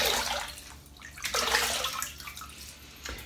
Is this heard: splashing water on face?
yes